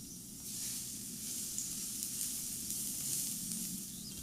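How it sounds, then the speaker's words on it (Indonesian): Minced garlic sautéing in a little oil in a pan over medium-low heat, giving a steady, close sizzle with a soft hiss that runs continuously and never stops. "Tumis bawang putih cincang sampai harum dan agak kecoklatan."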